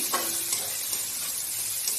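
Chicken frying in a pan with onion, ginger and garlic, steady sizzling with a few stirring scrapes near the start, continuous and fairly loud with no voices.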